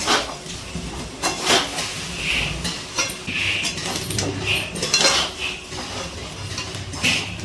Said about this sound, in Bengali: ধনেপাতা দিয়ে আরও একটুখানি নাড়াচাড়া করে নিচ্ছি।